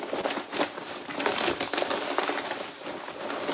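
Tarot cards being shuffled by hand, a close, continuous papery riffling and rustling with quick soft slaps, steady throughout with no voice.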